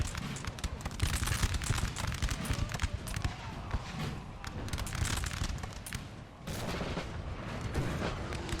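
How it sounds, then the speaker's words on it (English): Artillery fire in a Napoleonic Total War 3 multiplayer battle, a dense, continuous barrage of booms and crackling shots, loud and sustained with a brief dip near the end, with faint voices underneath. "that artillery way over here is just plowing into my lines"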